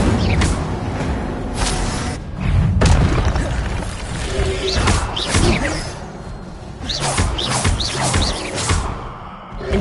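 Fire spell effects from a Hogwarts wizarding video game, a series of loud booming bursts and whooshing blasts that swell and fade across the clip, with faint game sounds in between.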